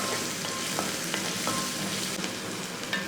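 Onions, green chillies and turmeric stirred in a frying pan for a fish curry, giving a steady close sizzle with a few light scraping clicks from the stirring spoon.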